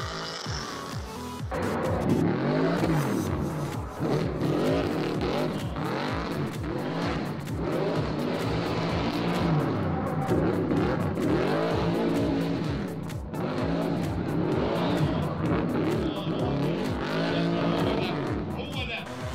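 Drift race car engine revving hard on a track, with loud continuous engine roar and rising and falling revs throughout, under steady commentary in Arabic.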